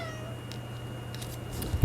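A single short cat meow fades out at the start, then only a quiet room hum remains, ending in a brief soft thump.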